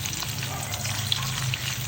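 Longganisa sausage fries in a pan with a steady, close sizzle and crackle. It runs without a break for a couple of seconds, with no voices over it.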